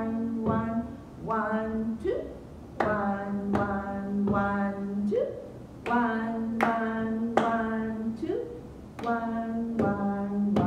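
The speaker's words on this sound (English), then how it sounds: "Let's clap and count the whole thing." Hands clap steadily in a classroom lesson, keeping an even beat under a sung or chanted counting voice throughout.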